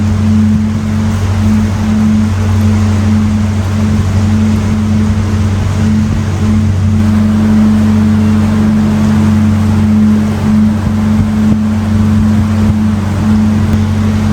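A canal narrowboat engine drones steadily through a tunnel, a constant low hum with enclosed rumble throughout and no speech.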